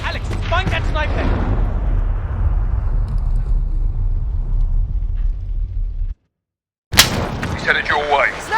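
Sharp sniper gunfire from a Battlefield video game firefight near a highway: a loud crack with a long rumbling decay, then a brief dropout. Shouting soldiers' voices are heard at the start and end.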